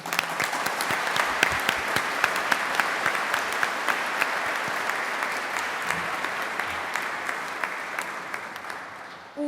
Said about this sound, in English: So go ahead and give yourselves the biggest round of applause.